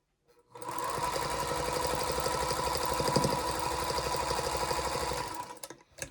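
A sewing machine runs steadily for about five seconds, stitching quilt charm pack blocks, loud and close, starting and stopping abruptly with no talk over it.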